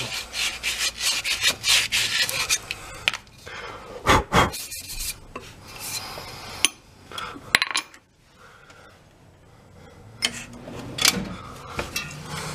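Wooden hammer handle being sanded and polished, a steady scraping rub in repeated strokes with brief pauses, close and fairly loud, with no talking.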